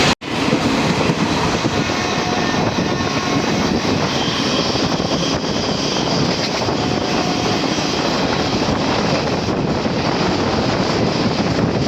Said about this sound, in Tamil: வண்டி இப்போ ஸ்பீடாக தான் போயிட்டுருக்குது.